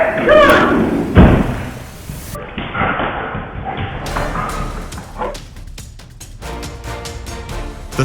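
A guard dog barks at would-be thieves at a home, in several sharp, loud barks at the start. Slams, clatter and mixed voices and noise follow.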